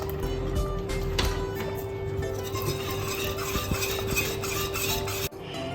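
A spoon stirring a three-cheese mix of Maasdam, Emmental and mozzarella into béchamel sauce for moussaka, a steady soft scraping with a few sharper clinks against the pot and a constant background hum.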